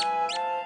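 A short, high cartoon squeak from an animated children's space scene, bright and whistly, with a tonal musical backing underneath and no voices.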